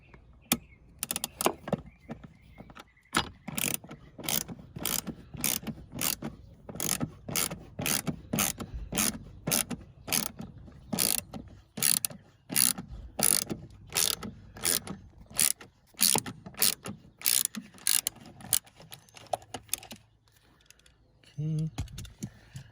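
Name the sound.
ratchet with extender loosening 12 mm nut on Toyota Camry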